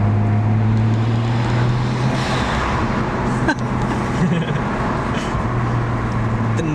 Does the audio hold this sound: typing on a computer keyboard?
no